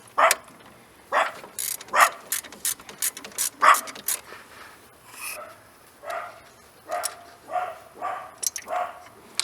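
Hand ratchet loosening a nut on the alternator of a 1992 Dodge Dakota, a series of close, sharp clicking bursts in irregular rhythm with brief gaps, loud and alone.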